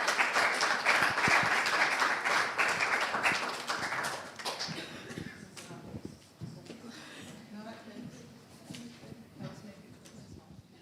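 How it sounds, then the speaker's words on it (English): Applause fills a live community forum hall, loud for about four seconds before thinning out into scattered claps and faint murmuring, with a voice speaking faintly toward the end. "big round of applause, everyone, for our contributors."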